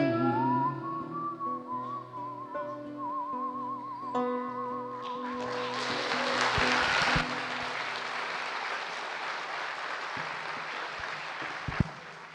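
A melodic whistled tune carried by one person during a celebration event, the sustained wavering notes giving way after a few seconds to loud, steady applause and cheering from a crowd that continues to the end.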